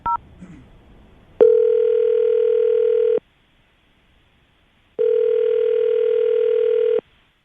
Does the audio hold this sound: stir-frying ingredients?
no